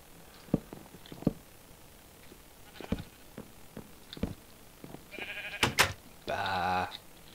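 A sheep lets out one drawn-out, wavering bleat near the end, after a series of scattered clicks, thumps and brief rustles in an otherwise quiet scene.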